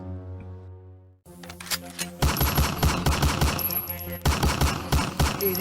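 Rapid bursts of gunfire ring out close and loud, a dense volley of repeated shots aimed at a vehicle's tyres during a chase, after a brief quiet start.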